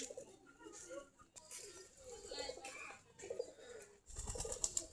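Pigeons feed on coarse rice in the afternoon, with soft cooing and light pecking and patter nearby, mixed with faint background voices.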